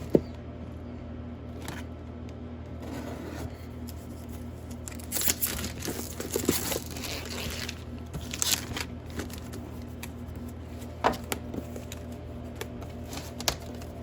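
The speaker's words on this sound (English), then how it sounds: "This plastic is outsmarting me today" Plastic packaging crinkles and crackles as it is worked open with a package opener in a garage, with scattered crunching and snapping bursts over a low steady hum.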